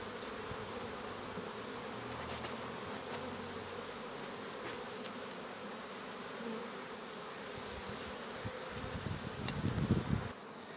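Honeybees buzzing steadily around a beehive frame during wax foundation work, a dense continuous hum with occasional nearer bees droning louder toward the end.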